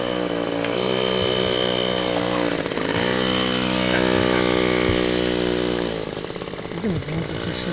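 A free scooter's small engine revs steadily and loudly while being ridden off road, its buzzing drone holding close throughout with slight pitch swells and dips, with no talking over it.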